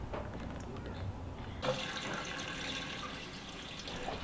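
Fuel pours into an old Datsun car with a splashing, gurgling flow that starts abruptly partway through and continues steadily at close range, with no talk.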